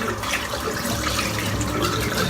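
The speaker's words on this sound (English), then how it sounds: "Just rinse the soap out" Tap water runs in a steady, loud, close stream while soap is rinsed out of a Simpson Owners Club 2012 Bodger shaving brush, a constant splashing rush with no pauses.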